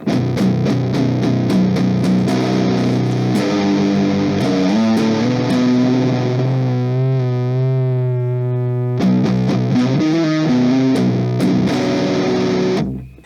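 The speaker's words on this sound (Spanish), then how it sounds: "ahora tenemos una distorsión mucho más articulada, mucho más controlable y mucho más llena" An electric guitar played through a modified Boss Metal Zone distortion pedal gives thick, saturated distorted chords and sustained notes, loud and close, with steady strumming and no talking.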